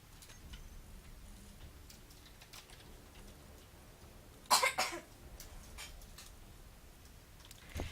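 A single sharp cough bursts out near the middle of a quiet stretch of faint room tone and soft ticking, loud and close for about half a second before fading back to low background.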